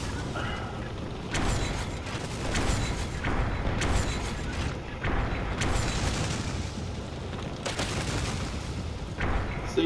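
Repeated heavy ballista shots and impacts from the Dragon's Dogma: Dark Arisen video game, booming bursts spaced every second or so over a dense, continuous layer of game noise.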